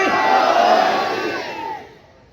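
A gathering at a religious sermon roars the Shia slogan Naara-e-Haidari back in a loud, sustained collective shout that swells and then fades over about two seconds.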